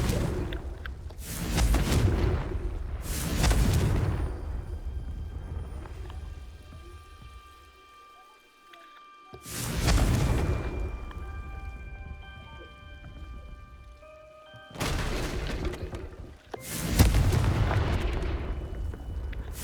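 Confringo fire spell explosions in Hogwarts Legacy: four heavy booming blasts, each a loud rumbling burst that fades, spaced a few seconds apart, with a soft sustained musical tone beneath them.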